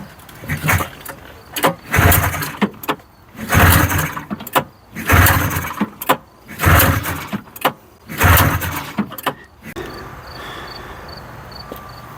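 A neglected 1981 John Deere snowmobile engine is pull-started over and over, each yank a loud rasping whirr in a steady rhythm of about seven pulls, followed by quiet with faint chirping crickets.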